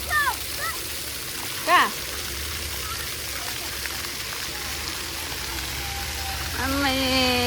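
Water splashes and sprays steadily at an outdoor harbor spray park where children play, a continuous rushing wash with a voice and nearby speech over it.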